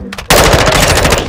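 Rapid automatic gunfire from Call of Duty: Modern Warfare II bursts in loud and close after a brief quiet lead-in, then keeps rattling steadily in a dense stream to the end.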